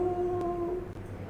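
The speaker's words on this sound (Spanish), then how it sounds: "Los perros empezaron a aullar. ¿Qué tal aullido a lo lejos?" Dogs howling in the distance, one long steady wailing howl heard alone and fairly faint, like a far-off dog at night.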